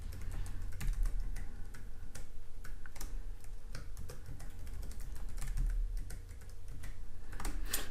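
Rapid, uneven keystrokes on a computer keyboard as an admin password is typed in twice, close and fairly quiet, with no talking.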